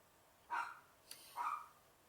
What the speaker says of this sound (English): There's my dog barking.